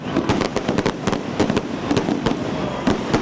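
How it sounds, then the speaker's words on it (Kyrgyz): Fireworks salute bursting over a commemoration ceremony: rapid, loud crackling reports in irregular clusters, close and continuous, with a dense rumbling backdrop and no talk. "Салтанат асманга от жагылган шарларды учуруу жана салют менен аяктады."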